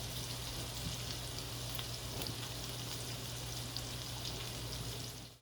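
Butterfish fillet frying in butter in a pot, a continuous soft crackling sizzle with a low steady hum beneath, faint and close, no voices.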